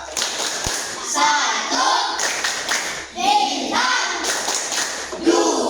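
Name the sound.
children clapping the Tepuk Lambang Pancasila clap chant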